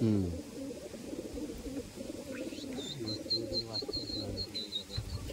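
Pigeons bred as flying birds coo in their loft, the soft rolling calls fairly faint and close together, with a thin high chirp and quiet background voices mixed in.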